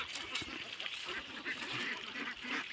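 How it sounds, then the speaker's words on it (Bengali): A flock of ducks feeding in an open field after long confinement, their busy quacking and honking continuous and fairly close against outdoor background noise. "হাঁসগুলো আজ ভালো খাচ্ছে না হচ্ছে এই হাঁসগুলো অনেক দিন আবদ্ধ অবস্থায় ছিল। আজ খোলা মাঠে নিয়ে আসার কারণে"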